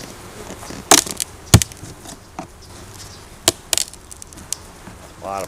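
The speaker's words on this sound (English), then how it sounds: "A lot of bees upstairs." Honeybees in an opened backyard hive during a summer inspection hum faintly and steadily, with sharp clicks and knocks from the hive frames and tools breaking in at intervals.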